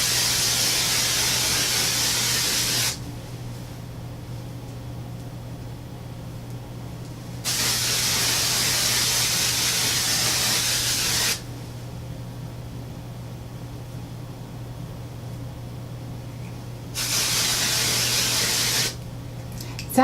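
A L'Oreal Colorista pink hair spray can sprays in three long hissing bursts of about three to five seconds each, loud and close, with quieter pauses between them over a steady low hum.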